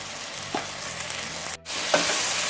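Coriander powder, Kashmiri chilli powder and garam masala frying in a pan for prawn dum biryani, a steady close sizzle with a few stirring scrapes and a brief drop in sound midway.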